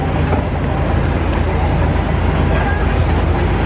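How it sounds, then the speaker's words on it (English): Tram ride in Los Angeles, a loud continuous rumble of the car rolling along the rails from inside the passenger area, with a person's voice heard faintly over the din. "Oh, that's a tram."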